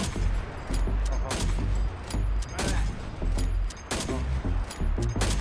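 Rapid bursts of gunfire from the FEL9 Felix, a slow-firing high-damage weapon in a shooter video game, crack out repeatedly with loud, sharp reports and brief gaps between volleys.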